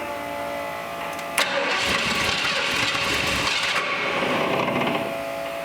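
A 1947 Ford V8 fitted with fuel injection cranks and catches, then settles into a loud, rough, steady idle close by, no speech over the running engine.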